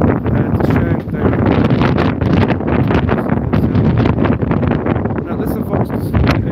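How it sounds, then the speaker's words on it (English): Strong wind blows outdoors beside the Darkey Kelly's pub during a break in traditional Irish music. It roars continuously and loudly, buffeting the microphone, and a voice may be faintly audible beneath it. "The wind is blowing like crazy."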